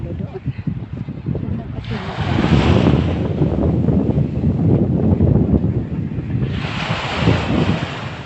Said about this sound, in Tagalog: Malakas yung alon ngayon.